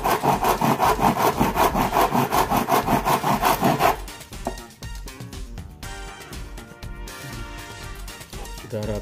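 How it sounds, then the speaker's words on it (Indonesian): A hand saw cuts through a wooden canvas stretcher frame in fast, steady rhythmic strokes for about four seconds, close and loud. Quieter scraping and handling of the wood follow. "Sekarang kita gergaji."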